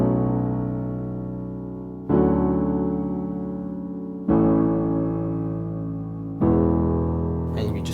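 Solo piano plays the chorus of a song, three sustained chords struck about every two seconds and left to ring and decay, close and clear with no voice over them.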